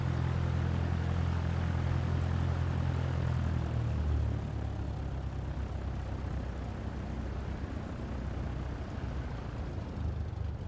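Steady propeller drone of a Cessna light aircraft taking off in Flight Simulator 2024, a broad continuous engine roar with low hum that eases slightly after the first few seconds, no voices.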